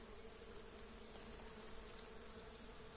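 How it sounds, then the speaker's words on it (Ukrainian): Bees buzzing around blooming wild raspberry in a remote corner of the Carpathian forest in May, a faint continuous drone of many insects at a distance, steady and unbroken. "Тут прям такий гул, як у вулику."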